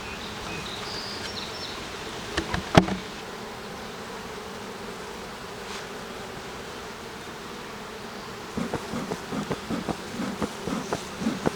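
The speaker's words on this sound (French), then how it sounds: "On va poursuivre avec les ruchettes à ressources qui proviennent des coupes de reine de l'ancienne ruche" Honeybees hum steadily around nucleus hives split from queen cells, a soft continuous buzz with a few bees passing close and light tapping toward the end.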